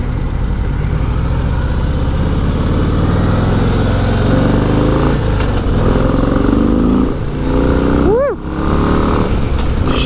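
A 2025 Harley-Davidson Low Rider S engine drones steadily under wind noise on a test ride, then rises in a brief rev near the end, loud and close.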